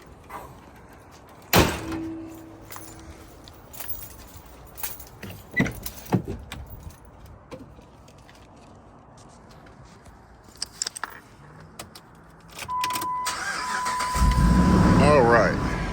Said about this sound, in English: We're gonna start the truck.